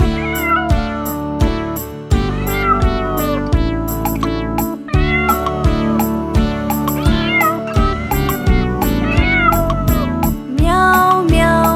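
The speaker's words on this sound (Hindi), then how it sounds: "बिल्ली करती म्याऊ म्याऊ।" A cat meowing repeatedly in a Hindi nursery rhyme for children, the meows set within a continuous, loud musical backing that runs throughout.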